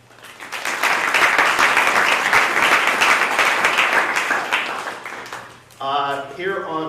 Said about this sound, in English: please give a round of applause for our two teams